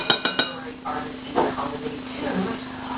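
A fork clinks against a bowl while mashing and mixing deviled egg yolk filling, a few sharp taps at first and then softer scraping under a steady hum, while a person talks.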